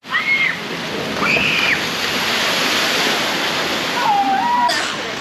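Water rushes continuously through a log flume trough at Farup Sommerland theme park, a loud steady wash with a few faint birdlike chirps above it.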